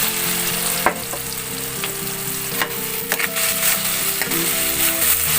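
Ground pork sizzles loudly in a pan with chopped bottle gourd as a spatula stirs and scrapes through it, producing steady frying hiss broken by repeated clinks and scrapes, with no talking.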